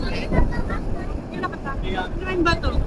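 Gusty wind rumbles against the microphone while people talk over it, outdoors in Casiguran, Aurora, Philippines, before rain.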